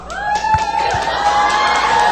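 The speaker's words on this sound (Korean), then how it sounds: "박수" Crowd at a 2008 StarCraft OSL group selection event in Seoul applauding and cheering, a steady, dense wash of clapping and shouts that fills the whole two seconds at fairly close range.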